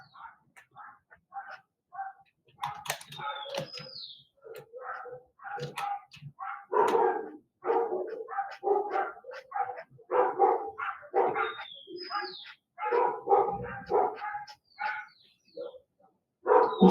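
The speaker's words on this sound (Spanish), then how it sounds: "empieza a ladrar un perrito" A small dog barks in repeated sharp yips in uneven bursts at moderate distance, with a few faint bird chirps in the background.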